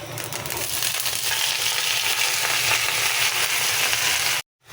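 Leafy greens fry in a pan with dried chili and a bay leaf, giving a loud, continuous sizzle with stirring scrapes that cuts off abruptly near the end.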